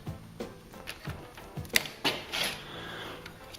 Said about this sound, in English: Loosen this up a few turns and then just pull it out.